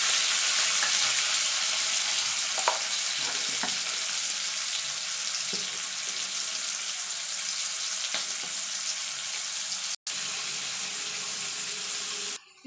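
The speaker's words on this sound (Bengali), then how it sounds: "দিয়ে দেবো আদা, কাঁচা লঙ্কা, একটা টমেটো। এটাকে একটুখানি নাড়াচাড়া করে নেব।" Ginger, green chili and tomato sizzle in hot oil for an onion-free matar paneer, a steady loud frying hiss with a few soft stirring taps, close up and without any voices.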